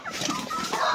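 Black Australian Orpington chickens cluck at feeding time on a small farm in a brief busy burst of overlapping clucks, close by.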